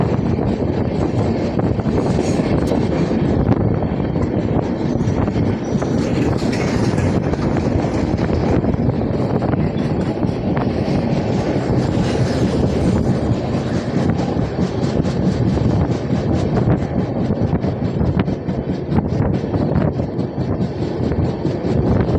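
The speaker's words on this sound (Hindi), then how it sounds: "अब यहाँ से हमारी ट्रेन बहुत ऊंचाई पर चढ़ेगी।" A passenger train climbs the steep Khandala ghat on the Indore–Pune route, a steady loud rumble of wheels and carriages with wind buffeting the microphone throughout, no voices over it.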